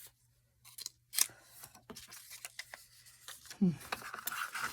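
Scissors cutting paper in half during a no-sew journal craft, a few faint close snips and rustles with a quiet voice and small handling noises around them.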